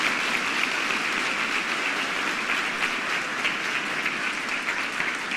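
Sustained applause from a huge audience of around 51,000 at a motivational event, a thick, even roar of clapping that holds steady without pause from start to finish.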